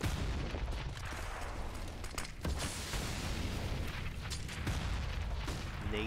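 Repeated grenade blasts and gunfire in Counter-Strike on the Inferno map during a Spacestation versus NRG esports match, dense booms and bursts filling the whole stretch without pause.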